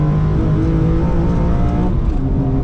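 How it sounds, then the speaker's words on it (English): An E46 BMW M3 engine fitted with an Evolve CSL intake and Supersprint header and exhaust pulls hard from inside the car, a loud, steady, harmonically rich drone of induction noise from the airbox that rises slightly in pitch. "You've got all of that induction noise from the airbox and no rasp."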